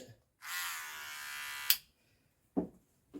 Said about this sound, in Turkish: Her iki makinamızın da pil değişimi gerçekleşti ve şimdi çalışma testlerini yapıyorum